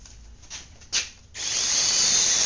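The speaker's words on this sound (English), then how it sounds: "I'm gonna run a couple of screws." A power drill drives screws into backing boards behind a drywall patch: two brief trigger bursts, then a sustained loud whirring run, close up with no speech.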